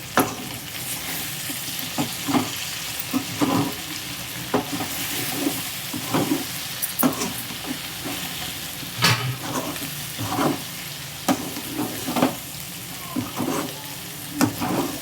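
Drumstick pieces fry in a pan with a steady sizzle while a spoon stirs and scrapes them in irregular bursts, close-up and without speech.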